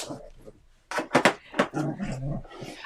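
Dogs play-wrestle underfoot with close, rough growls and snarling bursts, loud and choppy over a few seconds.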